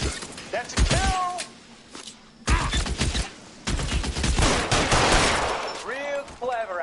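Gunfire in the video game L.A. Noire: loud single shots and short bursts go off in clusters with pauses between, mixed with impacts and shattering, while a character shouts and a person talks over the action.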